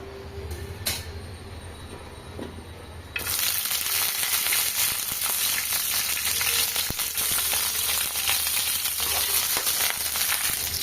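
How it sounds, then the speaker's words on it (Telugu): Red chillies frying in a little oil in a kadai for coconut chutney: quiet kitchen background, then a loud, steady hissing sizzle that starts abruptly about three seconds in and continues without a break. "అదే కడాయిలో అయితే కొంచెం నూనె అయితే వేసుకొని మిరపకాయలను అయితే బాగా వేయించుకోవాలి"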